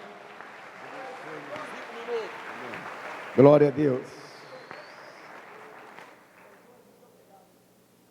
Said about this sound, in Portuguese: Uma salva de palmas para pastor Antônio.